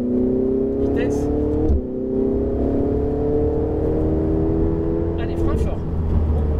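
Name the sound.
Ferrari 488 GTB engine accelerating on a race circuit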